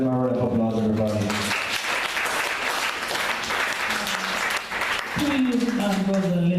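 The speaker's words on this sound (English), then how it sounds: "Give them a round of applause" Church congregation applauding: dense, loud clapping fills the middle of the clip, with musical tones and voices before and after it.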